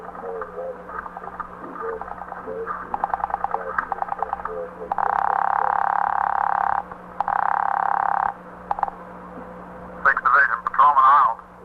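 A telephone switchboard rings in an old police radio drama set at the 21st Precinct, two long steady electric buzzing rings in a row, with voices talking before and after.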